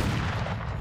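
Grenade launcher fire in the video game Creative Destruction, a dense and loud booming rumble over less than a second with no quiet gap.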